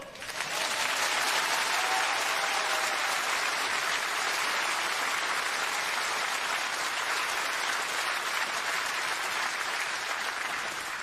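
A theatre audience at a French comedy stand-up show breaks into loud, sustained applause that swells quickly and continues steadily for several seconds, a dense wash of clapping with no speech over it.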